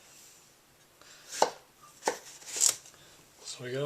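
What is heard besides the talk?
knife chopping cucumber into slices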